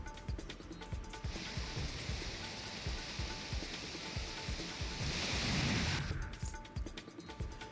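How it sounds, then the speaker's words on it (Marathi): Water released from a dam into the Meena River near Junnar rushes through the riverbed, a dense, steady rushing and splashing that swells louder near the middle before easing, with no talk. "या जलप्रवाहामुळे नदीपात्र खळखळून वाहू लागलं"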